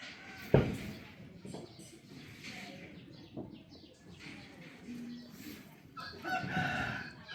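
A rooster crows among chickens, with several crowing calls and clucks spread across the moment, moderately near over a low outdoor background.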